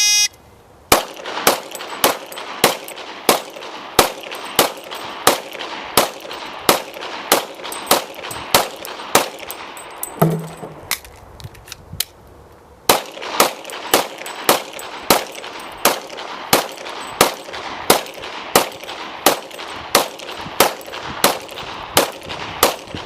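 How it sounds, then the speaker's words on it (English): Rapid semi-automatic gunfire at a shooting range as two 15-round magazines are emptied at three targets, evenly spaced sharp shots in two long strings separated by a brief pause with a metallic clack of the magazine change. "Christy is going to demonstrate by shooting the 2 15-round magazines at our 3"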